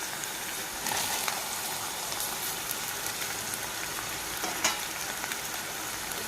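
Masala paste and tomatoes frying in a pan, a continuous close crackling sizzle with scattered sharp pops and occasional stirring scrapes, steady and fairly quiet, no voices.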